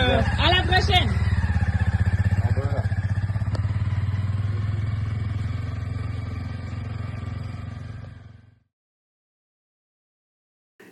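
A motorcycle on a touring trip through New Brunswick rides away, its engine thrumming loudly at first and fading steadily into the distance before cutting to silence, with brief voices and clatter near the start.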